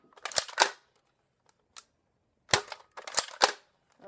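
Nerf gun fired several times, sharp snapping pops in two clusters separated by a pause with a faint click, close and loud.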